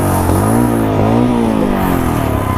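A motorbike engine on a Ladakh ride revs during a water crossing, its loud close note rising and falling in strained, sluggish surges as it struggles for power.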